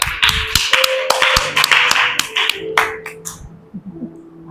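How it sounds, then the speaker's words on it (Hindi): A church congregation applauds a brother with scattered, uneven claps that come in irregular bursts and thin out toward the end. "भाई के लिए तालियां।"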